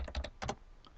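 A computer keyboard clicks through a quick, close run of several keystrokes, a few taps in a row then a pause and one faint final tap, while typing an npm install command on Windows 7.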